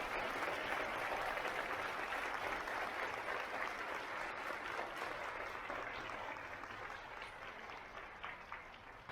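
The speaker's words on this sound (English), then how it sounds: "Can you please give Congressman Don Beyer a big round of applause?" Sustained audience applause at a women's conference, a steady dense clapping from a large crowd that carries on evenly before easing slightly toward the end.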